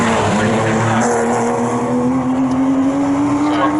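Porsche race cars sweep past on the Snetterton circuit, a loud, close engine drone with a sustained rising note and faint tyre noise, filling the whole stretch without talk.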